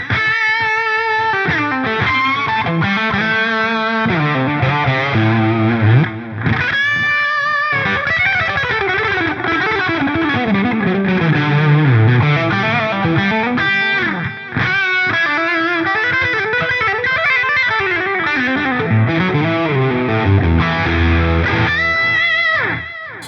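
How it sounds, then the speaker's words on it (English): Electric guitar played through an Amplitube 5 Friedman Pink Taco amp simulation with delay and light room reverb engaged, distorted chords and lead lines ringing out with repeating echo tails, loud and continuous throughout. "Let's turn on our delay."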